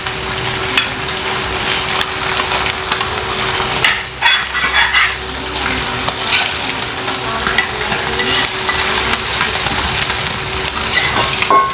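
Omelette eggs frying steadily in a pan, a loud continuous sizzle and crackle lasting throughout with occasional scraping, close and without any voices.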